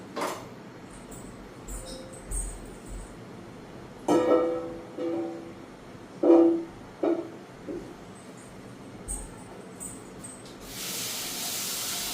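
Potatoes dropped into hot oil in a home kitchen give short sizzling bursts, then a steady loud hiss of frying near the end.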